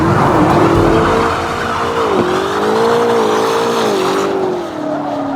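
A Cadillac CT5-V Blackwing sedan accelerates hard out of a corner on a track lap, its engine note loud and steadily rising with a brief shift dip, tires faintly squealing underneath.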